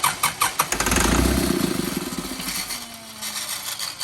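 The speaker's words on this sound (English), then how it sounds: "What you heard there was it running on ether." An old diesel farm engine cranking and catching on ether, rapid starter chugs leading into a rough, loud running roar that settles and fades, nearby and with no talk.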